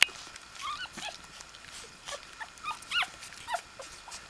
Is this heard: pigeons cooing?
no